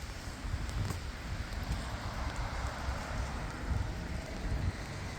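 Steady rain falling around a tent pitched for a stealth camp at a fuel station, a dense even patter close by with no voices.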